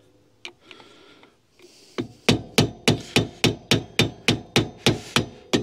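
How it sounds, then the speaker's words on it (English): A screwdriver is tapped around the outside of a caravan wheel bearing, with about a dozen sharp metallic knocks at a steady, even rhythm. They sound close and clear after a few softer handling noises. "Screwdriver, just give it a little tap around the outside."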